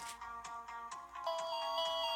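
Bus stop bell in a bus simulator game, ringing again as a quick, repeating electronic chime pattern, bright and steady at close range with no voices over it.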